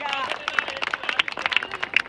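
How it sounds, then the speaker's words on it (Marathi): An audience clapping for bodybuilders at a youth bodybuilding competition in Nashik, a dense patter of hand claps from a crowd, fairly close and continuous, with a voice talking over it. "कृपया या सर्व बॉडी बिल्डरसाठी एकदा जोरात टाळ्या होऊन जाऊ द्या"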